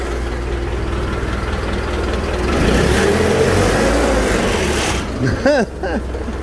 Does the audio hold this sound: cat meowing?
no